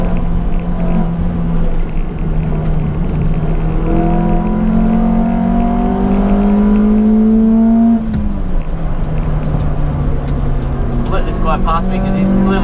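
A race car on the Wodonga Circuit track downshifts into second gear under braking, its loud, close engine note falling in steady harmonic steps before blipping and dropping sharply, with a continuous in-car drone throughout.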